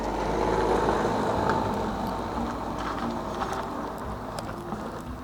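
Restored 1958 Peugeot 203 car with two-tone paint making its first roll on the road, a low engine rumble and tyre noise, moderately loud at first and easing off slightly.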